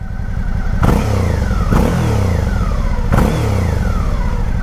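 Stock exhaust of a Suzuki V-Strom adventure-touring motorcycle, revved hard three times in quick succession over a steady idle, each blip rising sharply and then falling away, loud and close with no talk.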